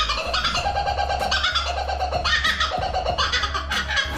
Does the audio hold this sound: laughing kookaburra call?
yes